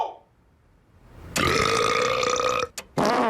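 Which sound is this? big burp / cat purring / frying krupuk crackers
big burp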